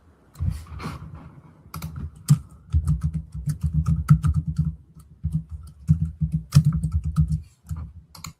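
Clicky keystrokes on a computer keyboard as a name is entered, coming in quick bursts with short pauses between them, fairly close and clear, with no voices.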